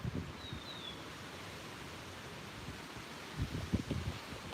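Wind blows through trees around a beaver pond outdoors, a steady broad rushing hiss with the leaves rustling and occasional stronger gusts buffeting the microphone near the end.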